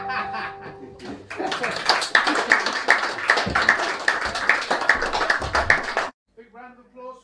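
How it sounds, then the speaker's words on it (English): A room full of people claps for Richard, a brisk burst of close, ragged clapping with some laughter mixed in, ending abruptly before a brief voice. "Big round of applause for Richard."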